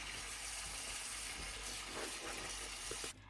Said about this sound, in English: I'm washing it with cold water